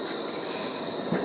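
Berlin metro train running in a steady, continuous rush with a persistent high whine, rolling rail noise throughout and a brief heavier knock near the end, no voices.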